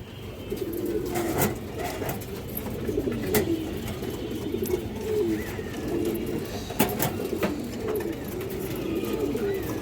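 Several domestic pigeons at a Bangladeshi pigeon seller's loft coo continuously in overlapping low, rolling calls, close and steady for about ten seconds, with a few sharp clicks and wing taps mixed in.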